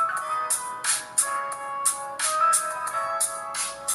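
A ringtone plays from the rear speaker of a Gooweel S11 phone, a steady repeating pattern of bright chiming notes, thin and moderately quiet, with no talking.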